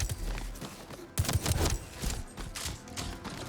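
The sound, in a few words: SMG firing in the video game Metal Eden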